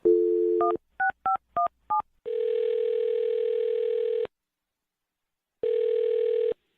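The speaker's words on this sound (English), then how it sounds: "I'm going to dial his phone number right now" A telephone number is dialed with a quick run of about six DTMF touch-tones after a brief dial tone, then a long steady ringback tone, a pause, and another tone burst; no talking.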